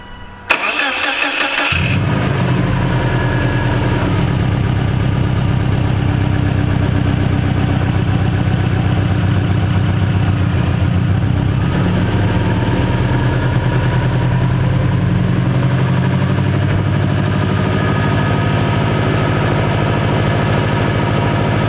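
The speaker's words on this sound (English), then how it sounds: "start the car and see how it runs." A car engine cranks briefly with the battery disconnected and fires up, then settles into a steady, close idle rumble that holds for the rest of the stretch with no talking.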